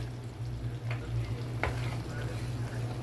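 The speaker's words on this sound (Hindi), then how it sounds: "इसको हम अभी ऑयल में डालेंगे और इसको फ्राई" Masala paste of onion, tomato, ginger, garlic and green chili frying in oil for an egg curry, a steady low sizzle with a couple of soft stirring scrapes, close and continuous, no talking.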